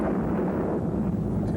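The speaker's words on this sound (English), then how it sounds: "there are some real fun effects you can have clearing your screen. This one's Firecracker." KidPix Firecracker screen-clearing eraser effect on a Macintosh: a brief, dense burst of crackling, popping explosion noise with a low rumble, continuous and fairly loud for its short length.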